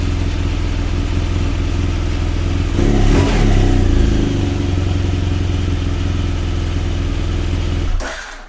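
A motorcycle fitted with a new Yuasa YTX14-BS battery runs at a loud, close, steady idle, swelling briefly with a rev midway before the engine cuts off near the end.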